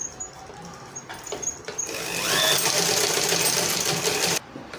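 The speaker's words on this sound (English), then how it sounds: "So I'll just sew down with my sewing allowance, 1 inch sewing allowance." A sewing machine stitches a seam on a baby's tulle ball dress, a brief start-stop whir followed by a steady, close, fast-running mechanical hum for about two seconds before cutting off.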